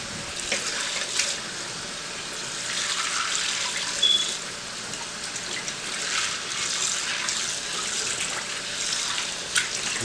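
Tap water runs steadily into a sink while pinto beans are rinsed, a continuous broadband splashing hiss lasting throughout at moderate level, with a few small clinks.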